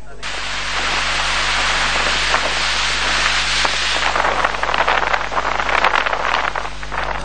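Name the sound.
heavy rain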